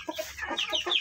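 A large hen clucks in several short, close bursts over about a second, loud and alone with no other sounds around it.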